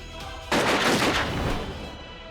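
Gunfire erupts in a tense police standoff, a sudden loud blast followed by a dense burst of overlapping shots for about a second and a half, then decaying reverberation, no voices.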